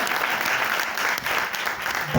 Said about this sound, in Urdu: میں یہ چاہوں گا اس بادشاہ کے لیے زوردار تالیاں